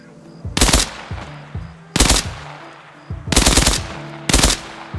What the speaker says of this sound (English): I want to turn to rapid fire.